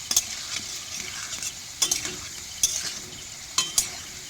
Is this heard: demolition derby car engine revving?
no